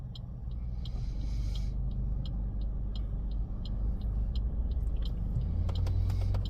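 Cars, trucks and vans idle and roll through a traffic light in Manukau, a steady rumbling road noise heard from inside a vehicle, with a rhythmic ticking indicator throughout and no talk.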